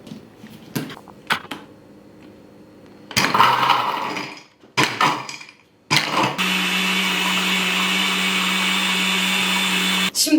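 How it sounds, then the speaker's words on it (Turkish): A blender crushing about 15-16 ice cubes with juice and sugar whirs loudly and steadily for several seconds, preceded by a few clattering knocks and short bursts of grinding. "15-16 adet buz ve blender."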